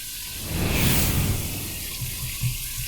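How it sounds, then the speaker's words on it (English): Cold water pours from a tap over an alum block by a sink, a steady close rushing splash that lasts the whole stretch with no voices. "run this under some cold water"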